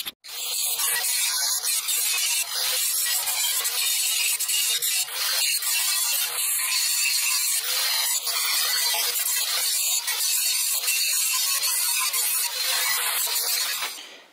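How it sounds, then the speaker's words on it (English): Wrench tearing a handle off a semi truck rim being made into a basket fire pit, a continuous loud, bright metallic grinding and scraping that runs steadily with no talk. "I'm just gonna take my wrench and just rip this freaking handle off."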